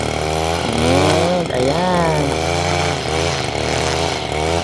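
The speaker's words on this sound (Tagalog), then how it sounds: "Gina-grass cutter yung mga damo." A grass cutter roars steadily while cutting weeds on a farm, its engine whine loud and continuous and rising and falling slightly in pitch, with brief talk underneath.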